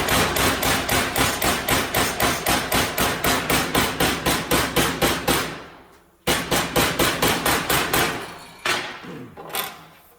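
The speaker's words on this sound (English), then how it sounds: "you're gonna walk that around this edge just with a hammer and dolly" A hammer strikes a sheet metal edge held against a dolly in rapid, evenly spaced metallic blows, loud and close, with a brief pause partway through before the hammering resumes and then tapers to a few last strikes.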